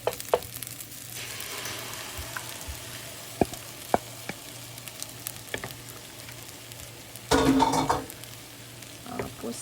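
An egg frying in fried rice in a pan gives a steady close sizzle, with sparse pops and clicks and a louder burst of crackling near the end.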